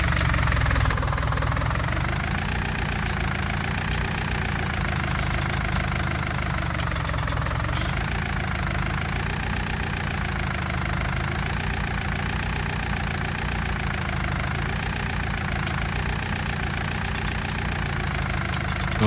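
A tractor engine idles steadily in Farming Simulator 19, a loud, continuous low rumble with a slight wavering pulse and no talk over it.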